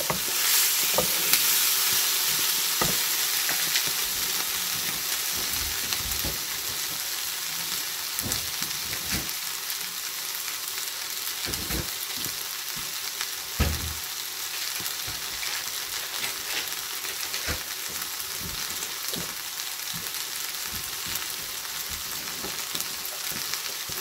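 Vegetables for an Asian-style dish fry in a pan, giving a steady close sizzle that runs throughout, with frequent soft clicks and scrapes of stirring and no talking.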